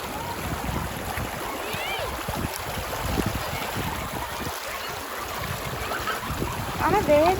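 A shallow pebble-bed river in Valparai flows with a steady broadband rush of water, close and continuous, with faint voices of people nearby mixed into the running stream.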